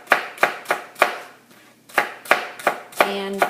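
Knife chopping kale on a cutting board, about a dozen sharp, close, evenly paced thuds with a short pause midway, no talking.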